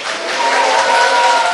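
Audience applause at a Korean political talk show event, a dense wash of clapping and crowd noise sustained steadily throughout, fairly loud and close.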